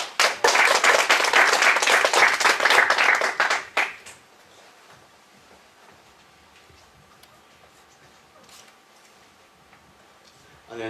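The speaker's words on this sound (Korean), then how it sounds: "박수로 맞이해 주십시오." Applause from an audience at a company open house presentation welcomes a speaker to the stage, dense steady clapping for about four seconds that then stops, leaving quiet room tone.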